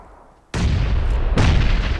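Grenade explosions in a battle royale video game, thrown by another team: a sudden loud blast after a quiet moment, followed by a second booming burst with a rumbling tail.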